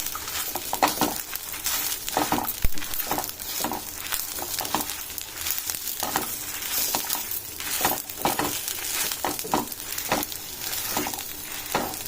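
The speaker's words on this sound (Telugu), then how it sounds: "నువ్వులండి. ఇలా వేయించుకొని" Sesame seeds dry-roasting in a pan, a close, continuous crackling rustle with repeated scraping strokes of a stirring spoon, a steady rhythm of stirs throughout.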